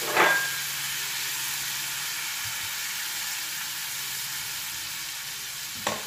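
Garlic and capers fry in a pan with an even, steady sizzling hiss, with a light clatter at the start and another near the end.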